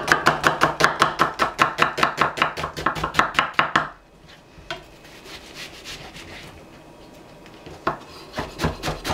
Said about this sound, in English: That's how you finally chop an onion.